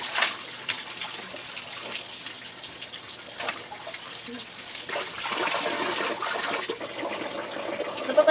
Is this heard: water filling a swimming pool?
yes